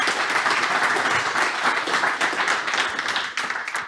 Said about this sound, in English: a big round of applause for Hensoldt Cyber and Daphna